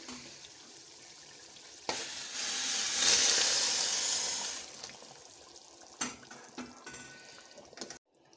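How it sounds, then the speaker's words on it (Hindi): A rush of hissing and sizzling as boiled water is poured into a hot pot of spiced curry base, swelling for a couple of seconds, followed by scattered clinks and stirring. "अब हम इसमें उबला हुआ पानी डालेंगे।"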